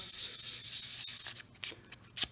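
Close-up hiss of 400 grit sandpaper rubbed lightly in circles over a soapstone carving to remove deep scratches, a steady gritty rasp that breaks into short strokes toward the end.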